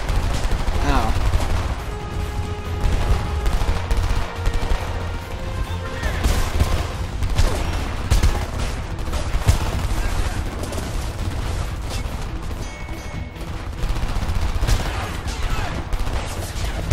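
Sustained rapid gunfire in the video game Homefront, dense overlapping shots and automatic bursts with booming impacts throughout, a voice occasionally talking over the noise.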